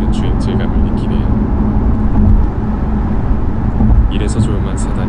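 A Genesis G90 sedan cruises smoothly with a muted, steady low road and engine hum heard from inside, while a person talks over it.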